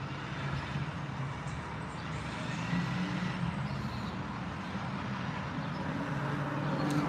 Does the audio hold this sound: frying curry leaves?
no